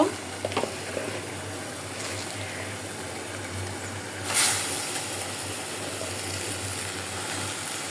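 Greens tossed into a pan of dried fish and spices, a soft continuous sizzle with occasional scraping stir noises and a brief louder hiss midway.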